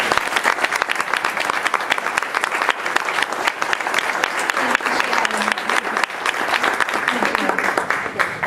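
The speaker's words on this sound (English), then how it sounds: "A round of applause for both Anita and Shannon." Audience at a campaign kickoff event clapping for speakers, sustained dense applause from a roomful of people, steady and fairly loud throughout.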